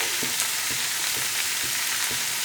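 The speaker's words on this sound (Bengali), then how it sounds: "আর নুন দিয়ে আমি সবজিগুলোকে খুব ভালো করে ভেজে নেব" Mixed vegetables fry in a pan with turmeric, giving a dense, even sizzle with faint regular scraping strokes as they are stirred, no talking.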